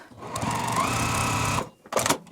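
A sewing machine runs a fast, steady stitch along a quilted-as-you-go star tree topper seam for about a second and a half, then stops, followed by a short mechanical burst up close.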